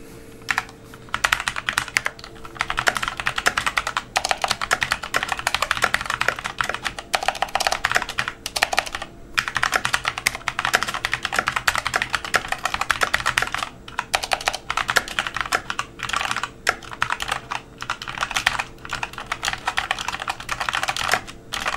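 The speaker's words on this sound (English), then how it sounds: "now for a quick typing test" Steady, rapid typing on a mechanical keyboard with linear optical switches, close up, with continuous clacking keystrokes and brief pauses between bursts, no voices.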